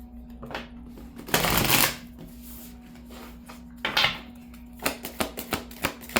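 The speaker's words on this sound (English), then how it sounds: "I guess I could pull some tarot cards and see what we can get" A deck of tarot cards being shuffled by hand, with a long riffling burst, a second shorter shuffle, then a run of crisp snaps as single cards are laid down, close and fairly quiet.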